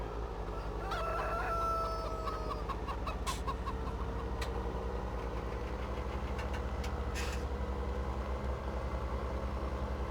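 In the video game Farming Simulator 17, a rooster crows, with scattered clucking from chickens over a steady low engine rumble throughout.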